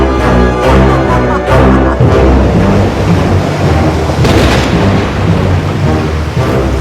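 A loud thunderstorm sound effect rolls with heavy thunder and crashing rain beneath a lightning storm and big waves, booming close and dense throughout with no voices.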